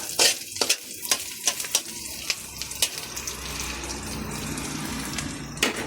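Onion, garlic and ginger sauté in a hot pan with a steady sizzle, broken by sharp scraping stirs of a utensil in the first three seconds, then a smoother continuous fry.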